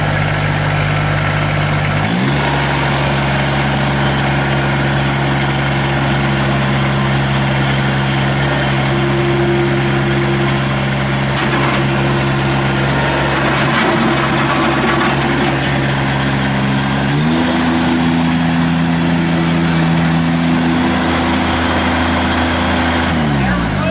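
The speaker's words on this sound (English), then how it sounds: "I'm going to go ahead, fire this tractor up" The diesel engine of a 2012 Kubota BX2660 sub-compact tractor runs loudly and steadily at close range, its low drone shifting pitch a couple of times as the revs change.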